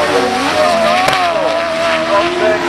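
An autograss racing car, class 7 at Bredon Hill, roars past at high revs; the loud engine note sweeps up and down in pitch as it goes by, with a brief sharper burst midway.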